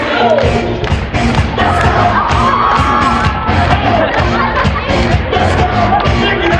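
Loud hypnotism show audience at a bike-a-thon event cheering, whooping and shouting continuously, dense crowd noise with scattered thuds and claps throughout, no clear speech.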